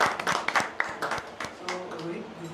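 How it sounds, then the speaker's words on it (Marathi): Indoor audience at an awards felicitation clapping to honour a star performer, a short burst of scattered claps that thins out quickly while voices murmur underneath. "टाळ्या वाजवा, ॲप्रिशिएट कर."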